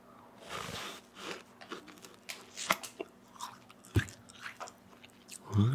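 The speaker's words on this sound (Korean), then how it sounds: "제가 탱크보이 좋아해가지고 탱크보이 하나만 먹으면서" Close, crunchy bites and chewing on a frozen Tank Boy ice cream bar, with a string of irregular crisp crunches and wet chews heard alone, without any talk.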